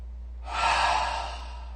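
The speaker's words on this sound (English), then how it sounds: "And on each of these big long breaths, with these long loud exhales" A long, loud exhale during a yoga flow, starting after a brief quiet moment and swelling into a breathy rush before slowly trailing off, close to the microphone with no talking.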